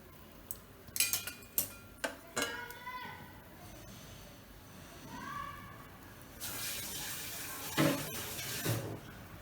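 A metal pot is taken off a gas stove in a home kitchen and set down, giving a cluster of sharp clanks and knocks, then a running-water wash and one more clatter near the end.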